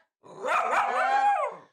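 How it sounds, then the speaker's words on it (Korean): A poodle gives a single drawn-out, whiny bark that slides into a throaty growl, close and loud, lasting just over a second before stopping abruptly, with no one talking. "승기는 어떻게 이렇게 좀 짖다가 말아요"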